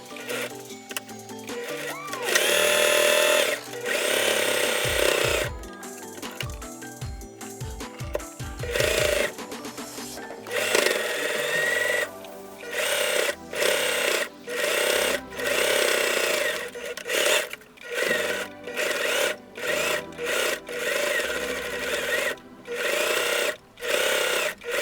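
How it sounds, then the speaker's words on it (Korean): A sewing machine stitches a short-sleeved T-shirt being made into a halter top, running in repeated loud mechanical bursts with short pauses, rapid needle clatter dominating and no talking. "저는 재봉틀이 있어서 재봉틀로 바느질을 할 건데"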